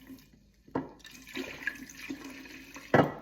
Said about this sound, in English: I'm gonna pour a little liquid in there.